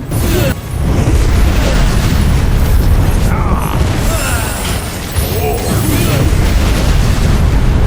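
Mages' spell attacks exploding against a siege ramp in Warlander, a loud continuous barrage of booms, crashes and rumbling bursts over battle noise, with voices talking underneath.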